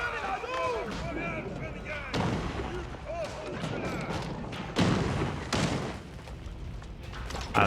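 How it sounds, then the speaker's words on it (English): Mangonel siege engines in the medieval strategy game Age of Empires IV launch and strike with several heavy thuds and booms spaced a few seconds apart, amid battle clatter and a voice talking over it. "Who needs rams when you can have mangonels shooting at things?"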